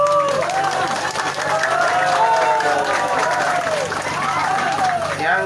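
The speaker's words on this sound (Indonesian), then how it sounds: "Tepuk tangan." A large crowd applauds steadily, with voices cheering and calling out over the clapping throughout.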